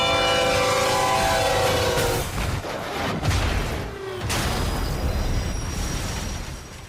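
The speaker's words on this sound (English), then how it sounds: "on the tracks, we have Bull, a 1 million-pound freight train that takes a mile to stop" A one-million-pound freight train at a crossing sounds its horn with a loud sustained blare, then the heavy rumble and clatter of rail cars rolls past close by, with a sharp crash-like impact in the middle.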